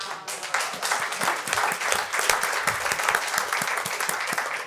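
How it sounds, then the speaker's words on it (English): Audience at a county board of commissioners meeting breaks into applause, a burst of scattered hand claps from a small roomful of people, moderately close and sustained for a few seconds without talk. "I'll clap for that."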